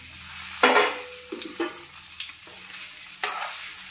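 Bitter gourd pieces hit hot oil in a pan and fry with a loud burst, followed by several shorter sizzling flares and stirring scrapes, then a steady crackle near the pan.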